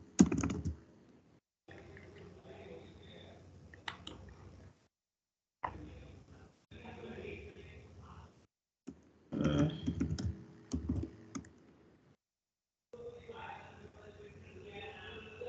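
Bursts of quiet clicking from a computer keyboard being typed on, in short stretches separated by silent gaps, with talking in places.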